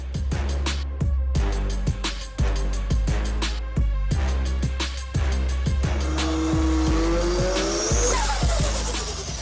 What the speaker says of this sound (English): So, this is my 2010 Ford FG Falcon F6.